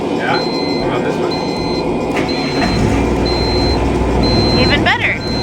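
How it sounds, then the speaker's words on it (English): An oil pressure sensor alarm on a liveaboard boat beeps in a steady repeating pattern of short high tones, heard over a loud broadband engine-like rumble and occasional voices. "It's the oil pressure sensor that's going off."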